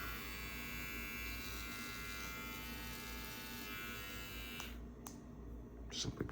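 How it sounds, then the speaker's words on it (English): A GAMMA+ Protégé trimmer runs with a steady, close electric buzz for several seconds, then switches off, followed by a couple of sharp handling clicks. "The trimmer right here."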